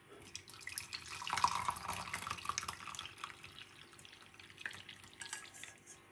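Brewed detox loose leaf tea being poured off, a steady soft splashing stream of liquid that runs continuously and fairly quietly throughout.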